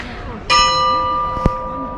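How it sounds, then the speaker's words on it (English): A church bell across from the Ancient Agora in Athens strikes a single time, nearby and loud, its bright metallic tone ringing on and slowly decaying over outdoor background noise. "The church across from the Agora is ringing its bell."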